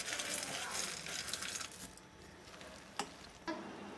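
Peanuts roasting and being stirred in a pan for chikki, a steady dry rustling sizzle that fades partway, followed by a couple of soft clinks of the utensil against the pan.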